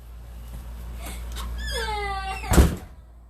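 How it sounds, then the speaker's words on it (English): A door at home is pulled shut with a single loud thud, landing after a short creaky, wailing squeak of the hinges or frame; no one speaks over it. "Close the door, right?"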